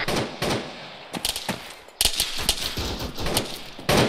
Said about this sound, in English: Stand by, we're taking fire from the rear.